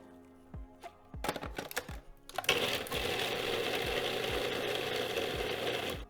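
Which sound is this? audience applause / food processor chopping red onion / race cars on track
food processor chopping red onion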